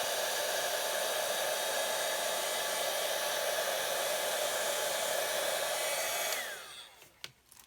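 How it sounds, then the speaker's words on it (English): A heat tool warming and setting ink on a stamped card blows a steady loud whooshing hum for several seconds, then switches off and winds down, followed by small handling sounds. "I might actually just heat it up a little bit just to kind of set it a little bit."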